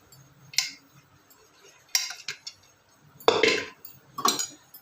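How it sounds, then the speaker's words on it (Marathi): A spoon stirring dal in a metal pot, four separate bursts of clinking and scraping against the pot with quiet gaps between, close and fairly loud. "मी असं मस्त हलवून घेते आता या वरणाला"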